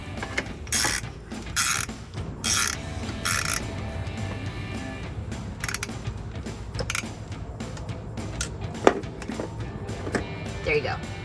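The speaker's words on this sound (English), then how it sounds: "I'm gonna take the wrench again, and I'm gonna get the stopper off this way." A wrench works loose the stopper on a retractable 3-point seat belt for a Jeep Wrangler YJ, making a series of bright metallic clicks and ratcheting scrapes amid handling noise, with someone talking at times.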